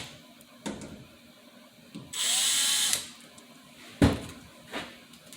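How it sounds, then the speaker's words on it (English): A power drill runs in one short burst, under a second long, to pre-drill into a door for a heavy-duty magnet catch. Handling knocks and clicks from nearby work come before and after it. "you're going to pre-drill into the door."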